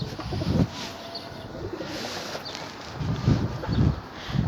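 Soft, low pigeon coos rise a few times over a quiet outdoor background, spaced irregularly and fairly close by.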